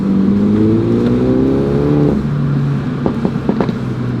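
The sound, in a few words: car engine revving after starting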